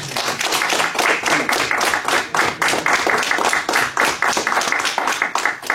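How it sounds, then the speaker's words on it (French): An audience at a talk on an agent of the Comète network applauds an honoured guest, a veteran cadet of the Free French, with loud, close, rhythmic clapping from many hands that keeps a strong, even beat throughout. "on va applaudir Monsieur René Marbeau"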